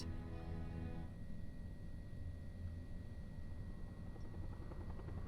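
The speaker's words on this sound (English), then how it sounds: "Sounds like a chopper." A helicopter from the horror adventure game Alpha Polaris gives off a continuous low rotor drone with a steady whine, heard alone and at moderate distance throughout.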